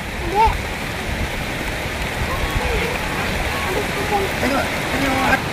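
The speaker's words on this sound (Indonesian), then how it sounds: "Hujan" Steady rain pours down outdoors over floodwater, a dense continuous hiss and patter, with a few brief voices calling out over it.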